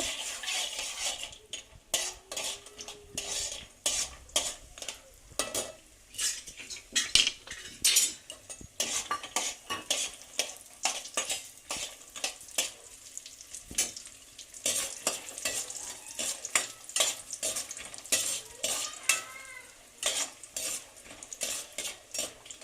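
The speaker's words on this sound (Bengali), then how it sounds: "প্রথমে আমি বড়িগুলো, খেসারির ডালের বড়িগুলো ভেজে নেব।" Khesari lentil boris frying in mustard oil in a kadai, a steady close sizzle broken by frequent scraping and clinking of a metal spatula against the pan, no voices.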